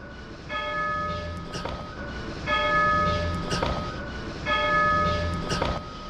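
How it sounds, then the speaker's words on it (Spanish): A bell rings three times at an even pace in a Guatemalan railway museum, each strike bright with a lingering tonal ring, heard at moderate distance over a steady background hum. "¿Qué fue? La campana."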